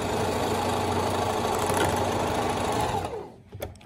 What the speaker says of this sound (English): So we're gonna go straight stitch. We're gonna straight stitch it. Go up and down.